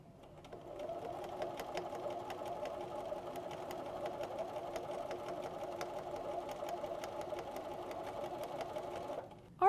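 A sewing machine stitches steadily through folded fabric coasters, a soft, even whir running continuously at close range with no talk.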